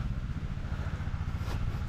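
An engine chugs and clatters steadily on a farm, close and fairly loud, with an even rumbling rhythm throughout and no talking.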